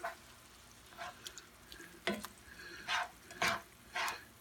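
Spices bloom in a pan for chorizo pasta under a faint sizzle, while a utensil scrapes and stirs in short, irregular strokes, quiet and close.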